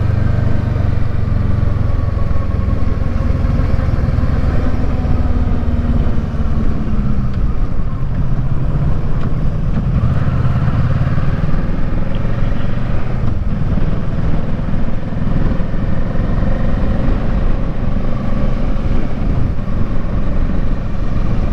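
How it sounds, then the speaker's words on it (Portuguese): A motorcycle rides along the open road on a holiday trip, its engine a steady low drone mixed with constant wind rumble throughout. "Porque a gente tá andando na moto e tá aquela brisa fria."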